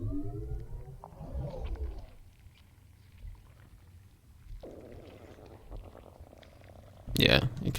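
Low gurgling, rumbling stomach noises inside a VRChat vore world, a murky churning hum with wet sloshing swells and a sudden louder gurgle near the end, heard faintly beneath someone talking.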